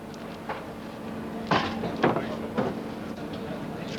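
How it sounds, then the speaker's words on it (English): A train running north along an old railway line in Australia: a steady rolling rumble with several sharp clanking knocks at irregular intervals, fairly close. "But there is still a train running north along the old line."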